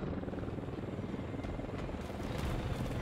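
A helicopter in the War Thunder combat game flies nearby with a steady, loud rotor thrum that holds for about three seconds without speech.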